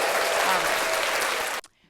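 A crowd applauds steadily at close range, broad clapping noise holding for about a second and a half before cutting off abruptly into near silence.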